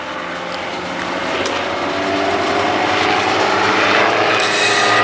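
Display aircraft engine at the Duxford Air Festival, a propeller roar that swells steadily louder as the plane nears, with a wavering drone under the noise.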